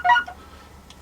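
A mobile phone gives a short, bright notification beep near the start, then quiet room hiss for the rest of the second.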